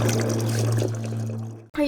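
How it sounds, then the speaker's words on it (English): Water pours steadily into a sailboat's onboard water tank, a continuous close trickling rush that stops abruptly near the end. "Are you guys filling up the water tank?"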